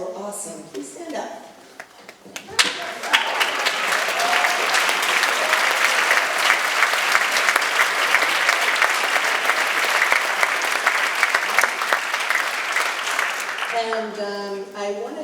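Concert audience at a high school spring concert applauds junior districts students, sustained broadband clapping from a large crowd lasting over ten seconds, rising after a brief spoken intro and tapering at the end.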